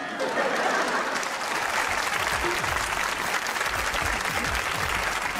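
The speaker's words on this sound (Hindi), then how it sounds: "ताली" Studio audience applauding loudly and steadily throughout, with dense continuous clapping at a Pakistani comedy talk show taping.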